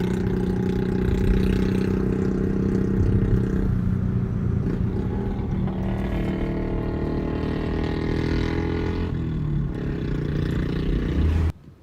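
A Royal Enfield Classic 500 motorcycle with a 500cc single-cylinder engine runs steadily close by for about eleven seconds, a loud, low thumping drone with small shifts in pitch, then cuts off abruptly at the end.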